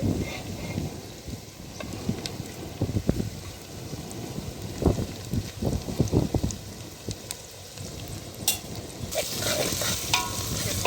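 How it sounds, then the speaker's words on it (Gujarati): Oil sizzles and crackles steadily with scattered pops and occasional stirring scrapes, a busy frying hiss throughout, as green onion and green garlic fry in tempering oil. "જે આપણે લીલી ડુંગળી અને લીલું લસણ તૈયાર રાખેલ છે એને પણ આપણે વઘારમાં ઉમેરી દઈ"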